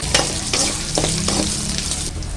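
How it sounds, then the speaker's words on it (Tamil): Small shallots and garlic sautéing in a pan for a tamarind bitter gourd curry, a loud continuous sizzle broken by several quick stirring scrapes, with no voices. "வெங்காயம் வந்து இந்த அளவுக்கு வதங்கி வந்ததும் நம்ம ஒரு தக்காளி கட் பண்ணி சேர்த்துக்கலாம்"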